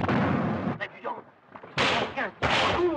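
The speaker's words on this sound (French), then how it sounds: "Il fallait que le fracas des obus, des explosions, les sifflements soient très présents" Shell blasts and whistling from a French war film soundtrack come as loud booming bursts with sharp, noisy crashes, mixed with shouting voices in between.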